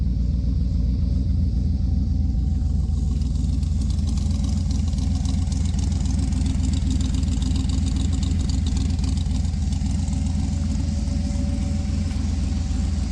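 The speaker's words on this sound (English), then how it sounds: "now I can really hear the engine" A 1966 Dart GT's engine idles steadily with a deep, constant exhaust rumble, close and unchanging, with no voices.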